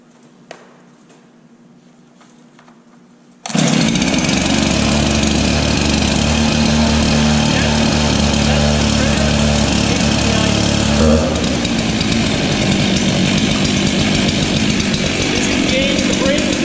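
Chainsaw engine, probably a gas saw, is faint and quiet at first, then fires and runs loud and steady, with a brief surge in revs near the end.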